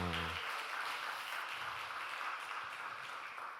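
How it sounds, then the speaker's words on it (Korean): A church congregation gives a warm round of applause, a faint, even, sustained patter of many hands clapping at a distance after a short tonal note at the start, slowly fading toward the end. "따뜻한 격려의 박수로 수고하셨습니다."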